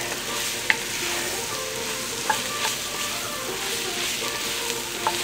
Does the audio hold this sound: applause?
no